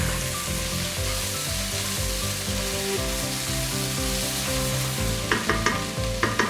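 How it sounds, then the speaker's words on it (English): Chopped vegetables for a Spanish vegetable soup fry over high heat in a pan, giving a loud, continuous sizzle with a few light stirring clicks near the end. No one speaks. "I like to put it over high heat so that they brown a little."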